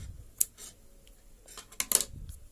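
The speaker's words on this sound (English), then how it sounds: "and then cut off my yarn" Scissors snip through crochet yarn in a quiet room, one short crisp cut followed about 1.5 seconds later by a louder double snip, with soft handling rustle between.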